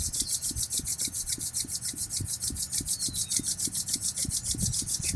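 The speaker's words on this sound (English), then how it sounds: "Begin to rub your hands together vigorously" Palms rub together vigorously in a fast, steady back-and-forth rhythm, a soft, close, dry swishing repeated many times with no voices.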